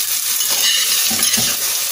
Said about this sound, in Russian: Обжарить нужно до золотистого цвета.